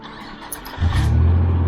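Car engine cranking briefly and then catching, rising into a loud, steady, close idle rumble.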